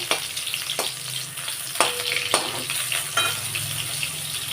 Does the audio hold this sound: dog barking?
no